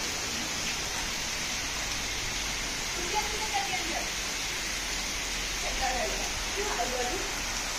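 Heavy torrential monsoon rain pouring onto a flooded lawn, a dense, steady hiss of water that fills the whole scene, with faint voices briefly heard beneath the downpour.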